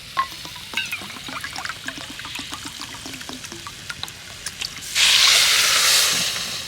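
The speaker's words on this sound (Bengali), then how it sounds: "এবার এই এক বাটি চিনির জন্য এক বাটি জল দিয়ে দেবো" A bowl of water is poured onto sugar in a pan to make syrup, a loud rushing splash for about two seconds after some quieter clinks and handling sounds, close by.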